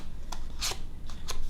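Closed scissors edge drawn along a folded paper leaf to curl it, giving a few short dry scraping swipes close up, separated by brief pauses.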